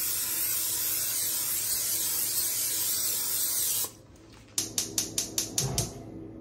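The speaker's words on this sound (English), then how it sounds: "Get some olive oil spray." An olive oil spray can lets out a steady, loud hiss close by for about four seconds and then stops. A quick series of sharp, light clicks and taps follows.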